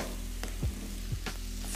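Fried rice sizzling at high heat in a wok, seasoned with light soy sauce and sesame oil, a steady close hiss broken by a few soft scraping stirs.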